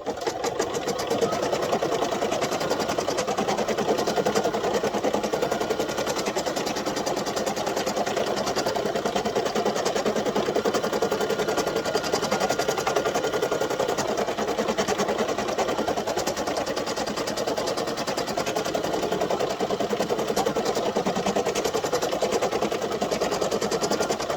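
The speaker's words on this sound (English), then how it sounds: "And now we're doing the placement stitch for the applique piece." An embroidery machine runs a placement stitch for a strawberry applique coaster, giving a steady loud mechanical chatter that holds at an even pace throughout, close up with no voices.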